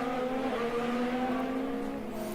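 A Formula 1 car in Saudi Grand Prix practice drones steadily with a high engine whine that holds a sustained pitch and shifts slightly, loud and continuous, with no talking.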